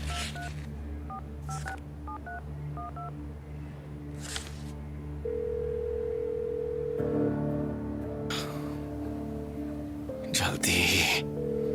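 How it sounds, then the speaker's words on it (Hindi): A phone call to a lawyer that goes unanswered: touch-tone dialing beeps, then a steady tone, with music playing underneath and a brief burst of noise near the end. "मेरा वकील फोन नहीं उठा रहा है।"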